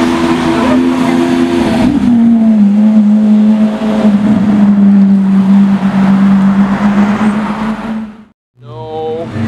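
Porsche Carrera GT V10 at full throttle: a loud, sustained high-pitched engine scream with a shifting tone, easing slightly as it holds, then a brief drop to silence before the wail returns.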